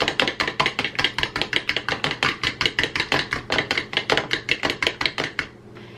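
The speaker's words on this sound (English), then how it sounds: "We need to beat this egg." An egg is beaten with a fork in a bowl, giving quick, regular clicking strokes at a steady rhythm, close and crisp, that stop just before the end, with no voices.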